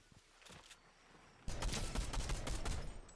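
Video game gunfire in Fortnite: sparse sharp cracks at first, then a dense burst of rapid gunfire that keeps rattling without pause, loud and close.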